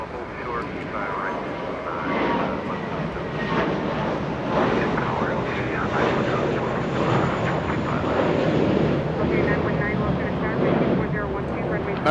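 An American Airlines jet bound for Dallas, Texas, roars steadily at close range on the north side of LAX, a broad sustained engine rumble with wind buffeting, while a person talks over it.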